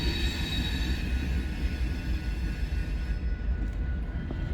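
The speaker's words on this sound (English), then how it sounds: "they're going to run the unit train of corn first" A unit train of corn rolls steadily past at close range, a dense continuous rumble of wheels and railcars with a faint high metallic ring, running without pause and with no voices.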